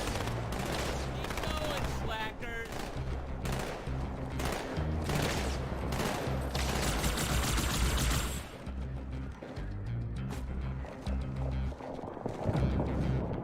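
Dual plasma rifles fire in Halo CE as dense, rapid bursts of energy-weapon shots mixed with other game combat noise, loud and nearly continuous.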